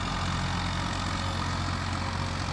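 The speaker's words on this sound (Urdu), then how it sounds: "یہ میسی فرگوسن ٹریکٹر ہے" A Massey Ferguson tractor working a wet rice paddy in Punjab gives off a continuous, loud, rough engine drone with a low throb and no pauses.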